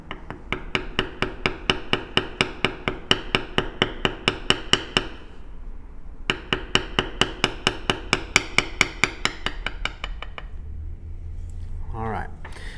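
Leather being bevelled with a tooling stamp struck by a mallet on a card holder, a long run of rapid, even taps close up, pausing briefly before the steady rhythm resumes.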